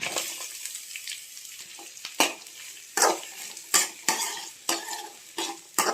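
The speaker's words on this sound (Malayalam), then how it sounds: "ഉള്ളി നല്ലോണം ഒന്ന് വഴണ്ട് വരണം." Chopped shallots sauté in a pan with garlic, a steady soft sizzle broken by sharp, regular scrapes of a spoon stirring against the pan, close and with no talking.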